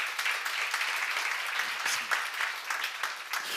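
A church seminar congregation breaks into brisk applause, a dense, close wash of many hands clapping at once that stays steady throughout.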